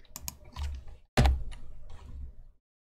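A few close key presses on a computer keyboard: soft clicks, then one sharp, loud tap, then a few quieter clicks, with no voices.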